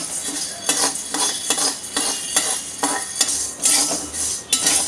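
Black peppercorns roast in a little oil in a kadhai, with sharp metallic clinks and scrapes from stirring repeating about twice a second over a light crackle. The sound is close and loud, with no talking.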